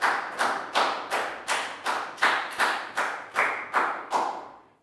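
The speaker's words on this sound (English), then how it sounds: "Big round of applause for Prel." In a Year 3 English classroom, about eleven sharp claps land in a steady, evenly spaced rhythm, loud and close, with nothing else heard between them.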